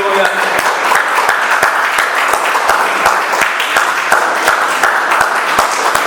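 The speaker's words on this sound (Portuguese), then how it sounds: "Aplauda o Senhor, amém?" A church congregation applauding during a worship service, brisk sustained clapping from many people with some sharp individual claps standing out, loud and close, with a voice speaking over the applause.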